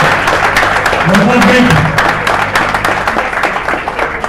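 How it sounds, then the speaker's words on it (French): Crowd at a political morning rally for a presidential candidacy announcement applauds, a dense broadband clatter of clapping that swells and holds steady, with a voice rising over it briefly. "Applaudissez! Applaudissez!"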